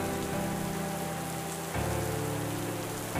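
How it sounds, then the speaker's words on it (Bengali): Heavy rain pours steadily onto surfaces, a dense, even hiss and patter that fills the scene without pause, with no voices. "ধরো যদি দেখো সকাল থেকে অঝোর ধারায় বৃষ্টি হচ্ছে,"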